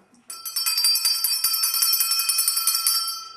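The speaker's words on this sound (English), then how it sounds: "It's a simple bell, it could be any old bell you could probably buy anywhere." A small hand bell rings steadily for about three seconds, a bright, rapid tinkling of repeated strikes, fairly loud and close, with no other sounds.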